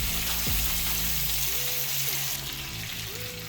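Goat meat frying in hot oil in a pot for Jamaican curry goat, a steady close sizzle with watery bubbling running throughout, a brief clatter near the start, and no talking.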